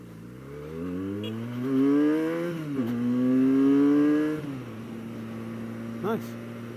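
A Benelli 302S motorcycle engine revs up and climbs through the gears while riding, the rising drone dipping briefly at a shift before pulling again, then easing off. Wind rumble sits underneath.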